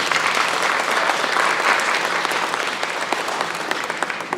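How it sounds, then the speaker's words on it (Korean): A hall full of residents applauds loudly and steadily during a town hall meeting with the Sejong city mayor. The clapping is dense and continuous from start to finish. "박수 한번 크게 하겠습니다"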